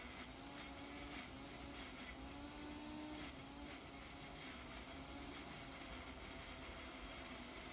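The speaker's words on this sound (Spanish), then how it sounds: "Todo esto lo vamos a licuar se va a formar una pasta espesa." A blender whirring steadily as it purées breakfast batter with powdered oats into a thick paste, a continuous motor drone with a wavering pitch that holds for several seconds with no talking.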